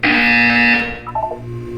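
A loud, harsh electronic buzzer from the video game Portal 2 sounds steadily for about a second, then gives way to a short series of lower beeping tones over a humming background.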